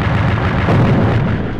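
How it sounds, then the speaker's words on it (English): A deep, rumbling blast from an early PlayStation first-person shooter, loud and sustained, with a dense low roar filling the whole moment and no voices. "you can just spam the gun until you hear an explosion"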